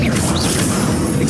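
A Confringo explosive spell cast in the Hogwarts Legacy video game: one dense, loud blast-and-crash burst that fills the whole moment with rumbling noise and a brief whooshing swirl on top.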